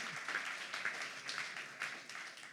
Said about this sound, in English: a big applause for our attendees.